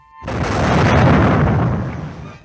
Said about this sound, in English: what do you get from the littlest firecracker?